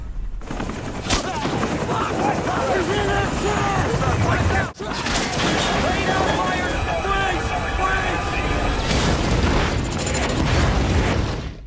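A helicopter crashes under sniper fire in the 2017 film The Wall, with rapid gunfire bursts, heavy booms and explosive crashes. The sound is loud and continuous, with a brief sharp drop near the middle and voices mixed into the din.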